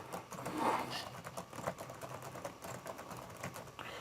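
Keys clatter in a quick, irregular run as someone types on a computer keyboard into Microsoft Word 2016, moderately quiet and close with no voices.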